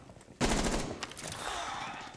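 A burst of rapid gunfire in the video game Rainbow Six Siege erupts suddenly, crackling loudly for a moment, followed by a lingering echoing rattle.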